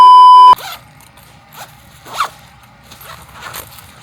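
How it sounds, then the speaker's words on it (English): A zipper runs along a fabric packing cube in several short, rasping pulls with gaps between them, close up, after a brief steady tone at the start. "Oh, I did the wrong zipper."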